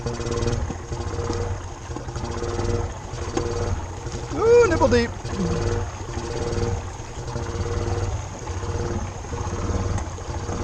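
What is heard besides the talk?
Honda Fourtrax 300 ATV engine idling in deep lake water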